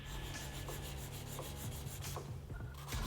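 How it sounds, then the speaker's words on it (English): A nail file rubs along the edges of gel nails, giving a close, steady scratchy rasping with faint repeated strokes over about three seconds. "And then we're going to come in with a file and neaten up our edges."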